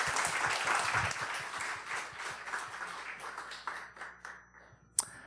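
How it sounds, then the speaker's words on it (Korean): A church congregation claps, steady at first, then thins out and fades, ending with a few scattered claps and a sharp final tap. "박수로 맞아주세요."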